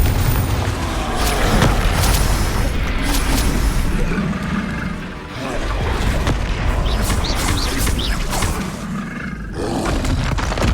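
Spell explosions from Confringo blasts in the video game Hogwarts Legacy, a dense, continuous roar of booming bursts layered over sustained rumbling game action, loud throughout with no speech.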